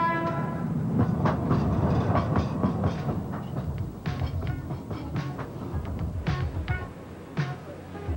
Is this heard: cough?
no